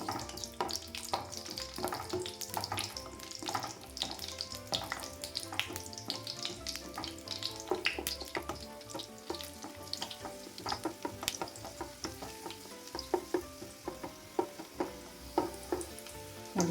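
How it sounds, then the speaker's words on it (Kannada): Cashews and raisins fry in a pan over a low flame for carrot halwa, a close crackling sizzle broken by frequent clicking spoon strokes against the metal, with no voices. "ಇವಾಗ ನಾನು ಗೋಡಂಬೆ ದ್ರಾಕ್ಷಿ ಎರಡನ್ನೂ ಫ್ರೈ ಮಾಡ್ಕೊತಾ ಇದ್ದೀನಿ ಸ್ವಲ್ಪ ಲೋ ಫ್ಲೇಮಲ್ಲೇ ನೋಡ್ಕೊಂಡು ಫ್ರೈ ಮಾಡ್ಕೊಳ್ಳಿ"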